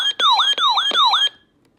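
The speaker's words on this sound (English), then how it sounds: "So yeah, there was a siren test on that." A Radio Shack weather radio sounds its siren test, three loud rising-and-falling electronic warbles close to the microphone, each about a third of a second long, stopping abruptly.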